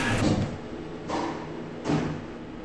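Three whooshing, airy swells of sliding lift doors in a Roblox game, the first loud, then two more spaced a little under a second apart, over a steady low hum.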